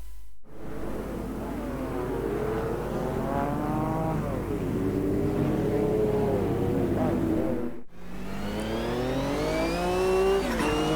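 Group C race car in the video game Automobilista 2 on the Spa Historic 1993 circuit. Its loud engine climbs repeatedly through rising revs with brief gear-change breaks.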